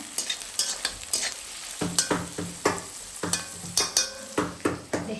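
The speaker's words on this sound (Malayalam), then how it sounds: "ഇതേ വെളുത്തുള്ളി നല്ലോണം മൂപ്പിക്കാനിട്ടു" Garlic frying in oil for a Kerala-style pickle, with repeated scraping stir strokes of a spoon in the pan over a steady close sizzle, no voices.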